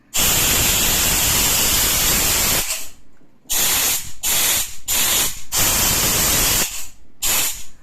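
An SSG Vortex scuba regulator, set to full plus, purges air in a long loud hiss followed by several short sharp bursts with brief silent gaps, close by.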